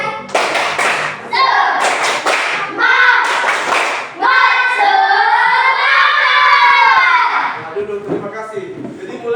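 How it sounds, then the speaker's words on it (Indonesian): A class of students claps in unison for an encouraging cheer, sharp rhythmic clap bursts at the start followed by loud group chanting and shouting voices that dominate the rest. "Tepuk tangan semangat."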